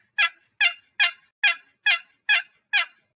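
Seven evenly spaced raspy turkey yelps drawn from a wooden box call by sliding the paddle across the lid, each note sharp and close, repeating steadily with short silent gaps and no talking.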